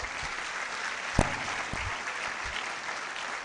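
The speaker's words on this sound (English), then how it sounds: "Give a round of applause to yourselves." A crowd of freshers at a university orientation applauds in a steady, hissy wash of clapping, with a few louder thumps and knocks standing out near the middle.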